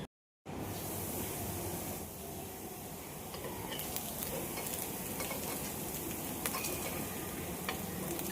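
Sabudana appe roasting crisp in an appe pan make an even, moderate sizzle after a brief silent start, with occasional faint ticks and light crackles, no voices.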